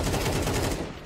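Rapid MP9 submachine gun fire in Counter-Strike 2: a dense, continuous burst of close, loud shots that runs for about a second with no pauses.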